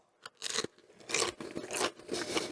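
Crunchy bites into a panko-breaded air-fried pickle topped with sauce: several sharp, close crackling crunches in quick bursts, followed by chewing, with no talking.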